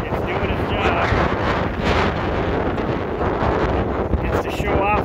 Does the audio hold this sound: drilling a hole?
no